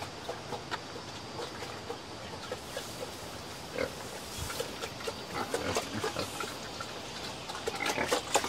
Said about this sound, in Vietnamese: Cho muối cho lợn ăn á?